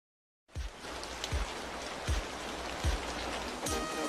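Rain falls steadily in a dense hiss of drops on a surface, with a few heavier low thumps at intervals; continuous and fairly close after a brief silent start.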